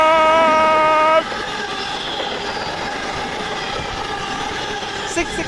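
A London Midland passenger train from Birmingham to Liverpool Lime Street passes close by at Coseley. A loud tonal horn-like whine opens the pass, then a steady rumble of wheels and carriages rolls through.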